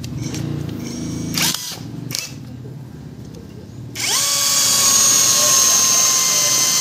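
Kamolee 13 mm brushless impact drill boring into wood at speed 2 on high power, a loud steady motor whine that starts and stops in brief bursts, then runs continuously and strongly near the end.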